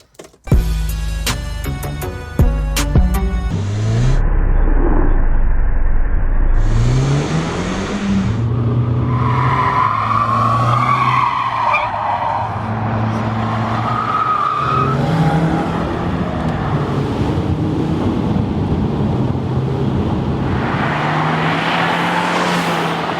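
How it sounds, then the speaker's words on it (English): Several cars pass along a road nearby, with engine and tire noise swelling and fading one after another; a brief burst of music sounds at the start. "so many cars are going past right now"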